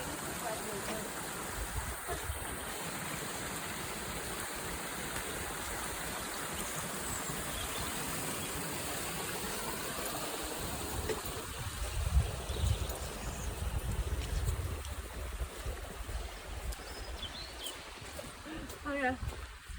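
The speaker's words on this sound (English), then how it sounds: "I'll just leave you a few moments with the sound of the birds and the running water." Running water from a stream on a countryside walk near Rosedale Abbey, a steady close rushing wash with birds faintly audible and a louder surge partway through.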